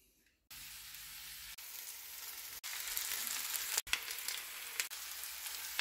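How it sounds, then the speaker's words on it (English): Vegan cordon bleu frying in olive oil, a steady broadband sizzle that starts abruptly and carries on close and fairly loud, with a few brief dips and crackling pops. "Let's fry the cordon bleu."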